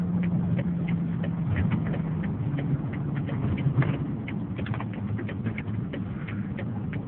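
The turn signal of a 2001 Mercedes-Benz S600 AMG ticks in a steady, even rhythm of soft clicks over a continuous low engine and road hum inside the car.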